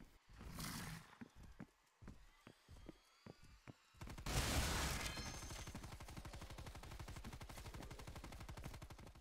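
Gunfire in the Dead Ops Arcade video game: a burst of sharp separate shots, then a loud blast that turns into a dense, continuous rapid-fire rattle, heard alone with no talking.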